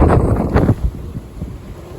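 Strong wind howls across an Islander 36 sailboat at sea, loud rumbling gusts battering the microphone that ease after the first second into lower, uneven buffeting.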